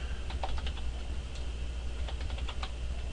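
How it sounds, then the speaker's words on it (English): Commands are typed on a computer keyboard during Cisco router configuration, with quick irregular bursts of close key clicks over a low steady hum, and nobody speaks. "we're just going to type in copy"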